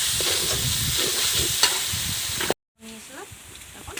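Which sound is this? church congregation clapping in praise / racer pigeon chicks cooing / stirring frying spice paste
stirring frying spice paste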